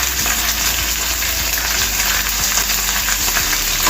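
Dried red chillies fry in hot oil over a medium flame, giving a dense, even sizzle with small crackles and pops, close and loud without pause.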